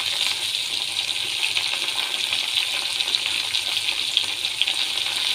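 Chillies and curry leaves sautéing in a pan for an irumban puli chammanthi give a steady, bright crackling sizzle that holds at an even level throughout, with no voices.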